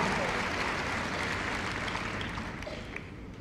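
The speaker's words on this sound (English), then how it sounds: "Give it a nice round of applause." Audience applause at the Crufts 2015 heelwork to music competition after a dog and handler routine, a steady crowd clapping in a large indoor arena, fairly distant and fading slightly toward the end, with some speech mixed in.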